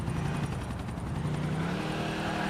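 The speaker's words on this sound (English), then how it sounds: "Chase down the helicopter." A helicopter in GTA IV during a chase, its rotor beating as a loud, continuous throbbing whir with a dense engine rumble, steady throughout with no talking.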